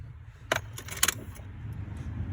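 Keys jingle in a few short metallic bursts near the dashboard of a 1996 Honda Accord, close and clear over a low steady hum.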